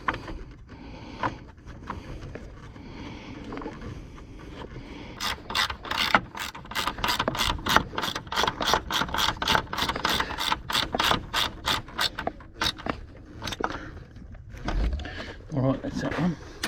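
A ratchet wrench tightening bolts on the 2.5-litre engine of a 2008 Nissan X-Trail T31, with a long run of rapid, even, close clicks in the middle, amid clanking and someone talking.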